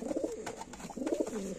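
Nesting Madras pigeons, kept as fancy breeds, coo in soft, throaty bursts close by with a short pause between phrases, no talking.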